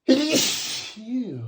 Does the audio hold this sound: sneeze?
yes